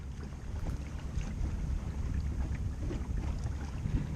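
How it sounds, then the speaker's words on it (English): The passenger and cargo ferry Île de Sein runs with a low, steady engine rumble, with wind buffeting and water noise mixed in throughout. No one speaks. "This is the island ferry Île de Sein, which operates as both a passenger ship and a cargo ship"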